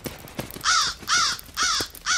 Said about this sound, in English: Blimey crow. Don't mind him all flap and show.